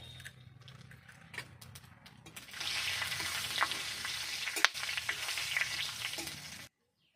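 Whole cumin and onion fry in hot oil. A soft sizzle swells into a louder, busy frying hiss with stirring scrapes and clinks, then cuts off abruptly.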